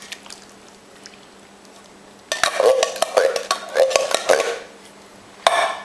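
Chili mixture stirred in a crock pot, a quiet start followed by repeated wet scraping and clinking strokes of a spoon against the pot, close and uneven, ending with one sharp knock.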